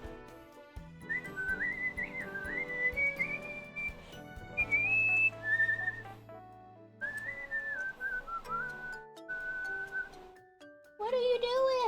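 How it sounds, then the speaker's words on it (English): Melodic whistling with wavering, sliding pitch runs through most of the clip in several phrases separated by short pauses, close and fairly loud over a busy background, with a quicker fluttering burst near the end. "He loves the whistling, is the thing."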